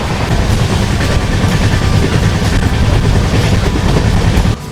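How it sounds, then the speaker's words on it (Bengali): A passenger train runs at high speed on the Bardhaman to Kumardubi line, a steady loud rumble with rhythmic clickety-clack of wheels over rail joints filling the whole stretch. "আর এই মুহূর্তে আমাদের ট্রেন একদম ফাটিয়ে টানছে।"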